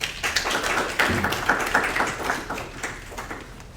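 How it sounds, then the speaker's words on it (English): A small audience in a college chemistry lecture class claps for a few seconds, a scattered, fairly close patter of hand claps that slowly thins out. "Let's give her a round of applause."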